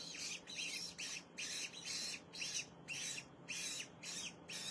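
Osprey chick in a wildlife rehabilitation setting gives a rapid series of about nine shrill, harsh squawking calls in steady rhythm, close and clear with no talk.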